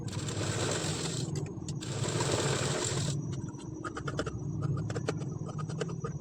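A sewing machine stitches the lining of a blouse, its running motor buzzing in steady bursts that stop and restart, with scratchy fabric handling and clicks between runs, close and fairly quiet.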